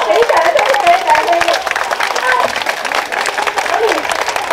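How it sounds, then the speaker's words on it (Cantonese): Applause at the opening ceremony of a district office in Hong Kong: a crowd claps steadily for several seconds while voices talk over and around it. "俾掌聲，俾掌聲。"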